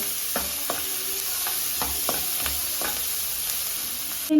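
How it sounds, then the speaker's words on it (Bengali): Chopped onions fry in hot oil with whole garam masala and cloves, a steady close sizzle broken by regular light scrapes of a spatula stirring the pan. "পেঁয়াজ কুচি দিয়ে দেবো এবার আমি পেঁয়াজগুলো ভাজতে থাকবো"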